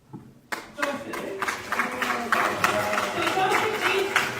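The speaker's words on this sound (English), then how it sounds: "Can we give a massive round of applause for Joseph?" An audience at a community gathering on migrants and refugees breaks into clapping that starts abruptly and stays as a steady, moderately sized round of applause.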